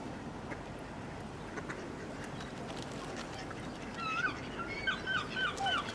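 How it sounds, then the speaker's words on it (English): Gull calls rise in the last two seconds, several overlapping cries at moderate distance over a soft outdoor background. "And there's the seagulls arriving in the background."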